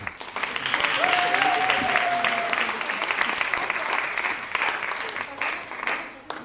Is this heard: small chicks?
no